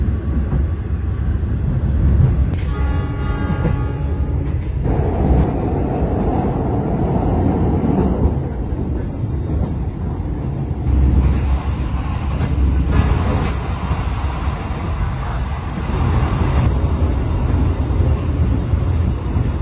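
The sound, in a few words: Argo Merbabu passenger train running, Semarang to Jakarta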